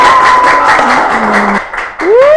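A studio audience at a comedy talk show gives a short burst of applause, with voices and tonal sounds running over the clapping before it dips briefly and swells again.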